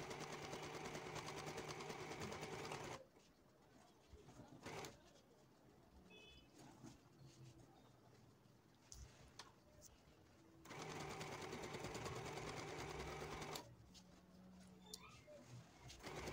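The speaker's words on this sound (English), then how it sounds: "So I will sew the first shoulder and then the second shoulder." A sewing machine runs in two long, steady loud stretches while stitching the shoulder seams of a maxi ruffle dress, with quieter pauses and faint bird cooing between them.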